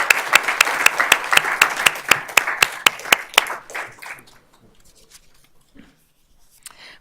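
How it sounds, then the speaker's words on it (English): An audience at a school board meeting claps for honored teachers, a sharp, close burst of applause that fades out after about four seconds, followed by faint room noise. "Let's give these teachers a round of applause."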